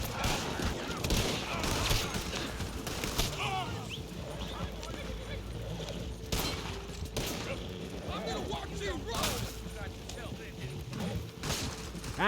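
Video game gunfire aimed at a wagon, sharp shots and bursts scattered through the stretch over a busy game mix, with someone talking at times.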